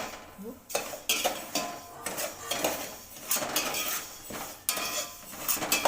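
Rice prasadam stirred with a metal ladle in a thick-bottomed pot, giving repeated scraping and clinking strokes at close range in an uneven rhythm with no voices.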